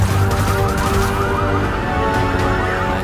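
In a scene from the Korean zombie film Peninsula, a triggered alarm wails with loud, sweeping rising and falling tones over a constant low rumble, filling the whole stretch without pause.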